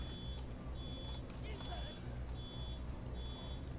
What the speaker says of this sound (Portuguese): Tem algum alarme apitando na minha rua aqui.